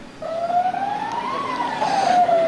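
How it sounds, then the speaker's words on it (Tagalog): A flood warning siren in Barangay 176 Bagong Silang, North Caloocan, Philippines, wails, rising and falling slowly, sounding from a distance over a steady background hum. "Sa pagtunog ng sirena ng Barangay 176 Bagong Silang sa North Caloocan, hudyat na may mataas na baha"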